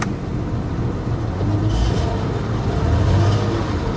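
A car with an engine misfire, idling and given a light rev at an auto auction yard, runs as a steady, rough low rumble that swells slightly midway and holds without a clear rise in pitch.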